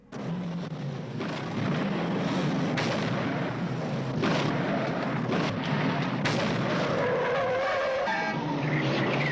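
Car chase in the 1970s action film Death Journey: loud, continuous engine roar with sharp bangs, crashes and tire skids, ending in a high tire squeal, with no speech.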